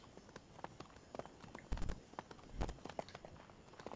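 Horse hooves clip-clop steadily in Mount & Blade, a busy rhythm of close hoof strikes with a few heavier thumps, alone without talk.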